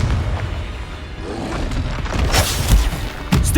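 A Confringo blasting spell in Hogwarts Legacy goes off as a loud booming explosion over a dense rumbling bed, followed by sharp crackling bursts, heard close with no talk.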